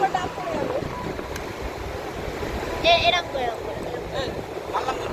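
Sea waves on Mandarmani beach wash in as a steady broadband surf with wind buffeting the microphone, while people speak and call out over it.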